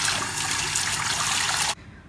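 Water runs steadily while makeup brushes are washed together, a continuous splashing, trickling rush close by that stops abruptly near the end.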